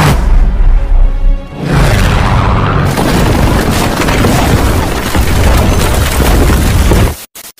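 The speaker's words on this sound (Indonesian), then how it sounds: "mereka berputar balik dan melepaskan tembakan secara random ke arah bebatuan" American military aircraft fire guns at random into rocky ground, heavy booming bursts and rolling blasts that sustain loudly before cutting off abruptly near the end.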